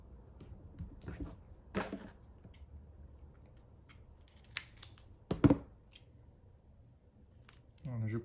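Scissors cut a small square of paper with a few sharp snips, close and crisp, separated by pauses and light handling noise, with someone speaking quietly near the end.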